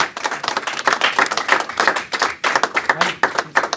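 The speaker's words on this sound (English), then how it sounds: "Let's give a nice round of applause to Ali Rashid." Audience members clap for Ali Rashid at a Pakistan Day event in the New York State Capitol, an uneven patter of distinct hand claps from a modest crowd, fairly close, with voices mixed in.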